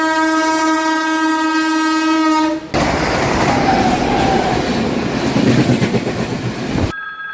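A MEMU local train sounds a long, steady horn blast at a level crossing, then rushes past loudly with a dense rumbling clatter that cuts off abruptly near the end.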